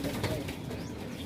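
Pigeons flap their wings in a short, close flurry of soft beats, with a faint coo or murmur in the background.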